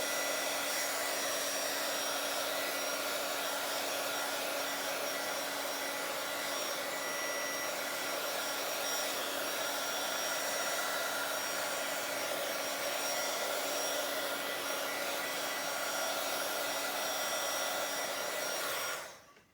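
A hair dryer blows steadily and loudly up close to dry wet-look paint on a Bible journaling page, with a constant whirring hum that cuts off abruptly at the end.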